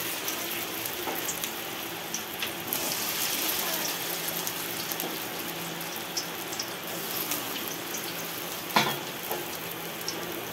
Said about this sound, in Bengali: এভাবে আস্তে আস্তে কিন্তু জাল দিয়ে ভাজতে হবে